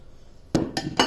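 A metal cooking pot is handled over a colander in a kitchen sink: after a quiet moment, three sharp metallic clanks and knocks ring out close by, spaced a fraction of a second apart.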